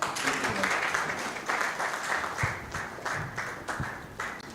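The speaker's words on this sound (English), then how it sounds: "Please give a round of applause, please" Applause from the audience at a public lecture marking an anniversary, moderately loud, with individual claps standing out in a loose, uneven rhythm for a few seconds and no talk over it.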